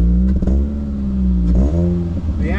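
A car engine idles with a deep, loud exhaust rumble, revving up sharply a couple of times before settling back.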